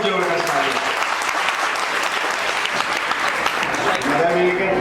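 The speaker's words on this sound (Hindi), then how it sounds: "एक बार ताली होनी चाहिए नरेश जी के लिए, बहुत जबरदस्त ताली" Crowd applause for a man named Naresh at a network marketing gathering, steady dense clapping that fills the whole stretch with some voices mixed in.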